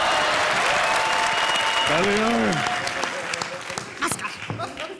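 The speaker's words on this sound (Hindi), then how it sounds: "अरे तालियां" A comedy show studio audience applauds, steady dense clapping with a brief voice rising over it, the applause thinning and tapering off toward the end.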